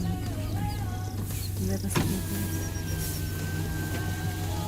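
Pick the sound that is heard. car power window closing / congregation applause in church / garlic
car power window closing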